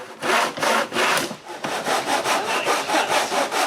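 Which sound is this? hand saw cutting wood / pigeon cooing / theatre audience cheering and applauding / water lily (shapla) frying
hand saw cutting wood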